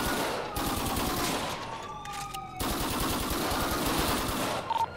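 Gunfire crackles through a video game shootout over a weed patch in Little Seoul. Rapid, continuous bursts of shots carry on for several seconds, broken only by a brief pause partway through.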